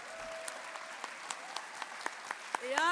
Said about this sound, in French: un tonnerre d'applaudissements pour notre président Sébastien Girard